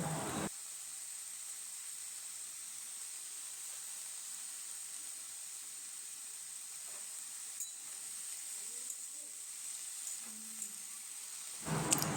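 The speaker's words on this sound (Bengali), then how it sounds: "এরপর আমি কুচানো আলুগুলোকে দিয়ে দেবো। সব কিছু দেওয়া হয়ে গেলে 2 মিনিট আমি নাড়াচাড়া করে নেব।" Chopped potatoes fry and are stirred in a pan for a Bengali red amaranth (lal shak) dish. A faint, even hiss goes on throughout, with a few soft scrapes and taps, then a louder clatter right at the end.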